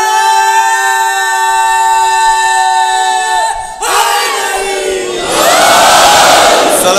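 Large crowd at a religious gathering roaring a slogan in unison, a loud sustained mass shout that swells and then breaks into a louder burst of voices.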